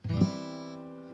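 A single acoustic guitar chord is strummed once, then rings out and slowly decays, alone and up close.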